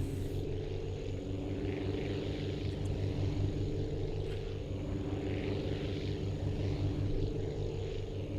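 A big cargo plane in the flight game Aviassembly takes off. Its propeller engines give a loud, steady drone that holds without a break.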